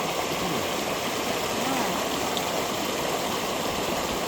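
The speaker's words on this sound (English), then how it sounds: "the water is flowing down? Slowly right now?" Water flows slowly at a fishing spot, giving a steady, soft wash and gurgle that continues evenly throughout at a moderate distance, with no voices over it.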